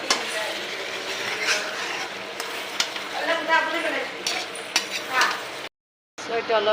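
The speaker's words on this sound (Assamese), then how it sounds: "এতিয়া লৰাই লৈছে।" Goat meat curry (khasi mangsho) being stirred in a hot pan, a steady scraping and sizzling of frying meat with occasional clinks of the spoon, close and continuous until a brief silent gap near the end.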